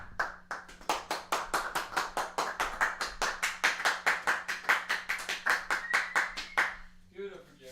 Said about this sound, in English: just gonna clap our hands while it's turning off